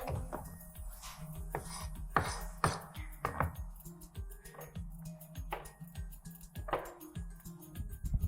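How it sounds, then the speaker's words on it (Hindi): Fresh mint leaves being roughly chopped with a knife on a board while making yakhni pulao, giving a steady run of close knocks and clinks of the blade on the board throughout. "पुदीना हम काट लेते हैं"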